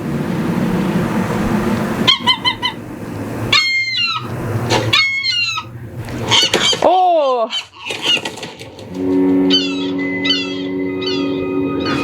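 A seagull from the 2019 film The Lighthouse gives loud, close, squealing cries with sharp rising and falling whines, mixed with bursts of flapping wings. A viewer briefly exclaims.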